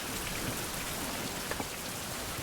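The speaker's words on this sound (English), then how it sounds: "let's go and capitalize on all this rain." Steady, dense rainfall in the 16th-century survival game Survival: Fountain of Youth, an even hiss of drops on surfaces with no pauses or voices.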